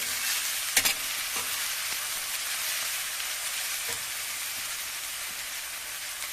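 Onions fry with salt in oil for bitter gourd pulusu, a loud steady sizzle close by with a few sharp scraping knocks as a spoon stirs the pan, no talk.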